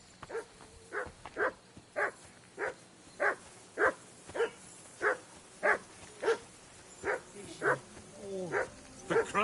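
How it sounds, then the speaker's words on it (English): A dog in Kingdom Come Deliverance 2 barks in a steady, evenly spaced series of about fifteen sharp woofs, moderately close, ending with a few whimpering yips and some faint voices beneath. "Call off that damn dog!"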